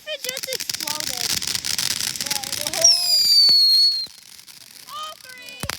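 Fireworks at a house go off close by with crackling pops, then a loud rising whistle. More scattered bangs and crackles follow, while people can be heard reacting in the background.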